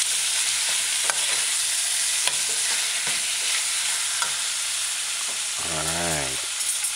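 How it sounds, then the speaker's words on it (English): Cooked tenderized oxtail stir-frying with vegetables on a medium-low stove for brown stew, a loud continuous sizzle broken by repeated scraping strokes and a brief whooshing rumble near the end, close and without speech. "you add the cooked tenderized oxtail and then stir it in with the vegetables and stir fry for a couple of seconds"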